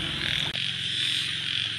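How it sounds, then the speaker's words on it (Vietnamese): Field frogs calling outdoors in a rice-field setting, a steady pulsing chorus of croaks mixed with insect buzz, continuous and fairly close, with one brief dip in the sound. "Ếch đồng ấy."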